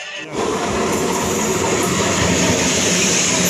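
A train rolls through a small railway station near Dhanbad, a loud, steady rumble with wheel clatter that starts abruptly and continues without a break, heard up close.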